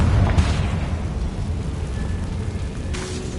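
Rumbling blasts from the Confringo fire spell in Hogwarts Legacy, a steady low boom and crackle lasting throughout, with brief bursts of brighter impact near the start and end.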